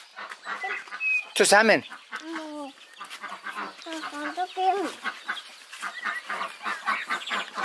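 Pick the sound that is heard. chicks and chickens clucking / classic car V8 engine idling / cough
chicks and chickens clucking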